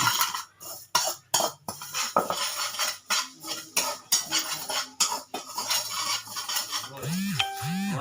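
Sesame seeds dry-roasted in a pan for vegetable soup, a utensil repeatedly scraping and clattering against the pan in quick strokes, with a rooster crowing in the background near the end.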